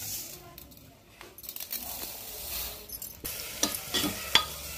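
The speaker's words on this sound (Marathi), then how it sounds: "तर आता आपला मसाला चांगला परतत आहे." Spice masala with green peas fries in oil for matar paneer pulao, a steady low sizzle with stirring scrapes and a few sharp metallic taps near the end.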